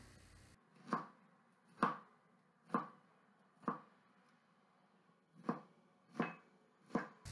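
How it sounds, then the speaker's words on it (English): A knife chops onions on a cutting board, slicing them fine, with seven crisp, evenly spaced cuts ringing out clearly and close up, with no talking. "Let's chop these onions up first."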